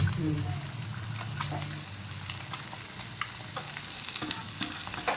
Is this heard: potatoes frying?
yes